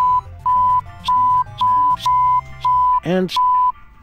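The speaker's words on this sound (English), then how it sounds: "it's just fucking funny sometimes when it beeps like that" Repeated 1 kHz censor beeps in the Sam & Max Beyond Time and Space Remastered game on PC, about seven short evenly spaced tones over background game dialogue, one interrupted by a speaking voice.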